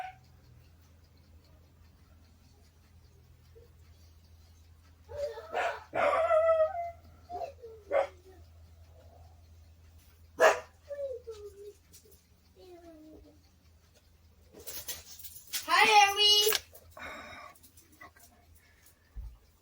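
Dogs bark in scattered bursts with some whining or howling, heard from a distance from inside a workshop shed, against a quiet background with a low steady hum.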